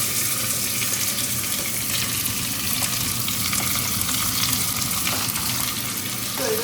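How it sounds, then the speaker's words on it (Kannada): Onions fry in a pan with bay leaves and spices, a dense, steady sizzle that stays loud and close throughout, with a few faint clinks and no speech. "ಸೊ ಇದನ್ನು ಸ್ವಲ್ಪ ಹೊತ್ತು ಫ್ರೈ ಮಾಡ್ತೀನಿ"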